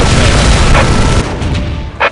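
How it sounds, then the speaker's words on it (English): Siege cannon firing in a video game assault on an orc fortress, a loud, dense booming rumble with a couple of sharper impacts toward the end. "Siege cannon."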